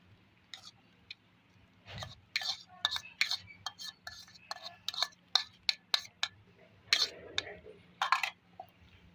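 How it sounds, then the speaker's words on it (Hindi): Crushed red chilli, cucumber and onion being stirred together into a Hyderabadi chutney, giving a series of close, sharp scraping and clinking strokes in an irregular rhythm with no talk over them. "मिक्स कर लेंगे अच्छे तरीके से।"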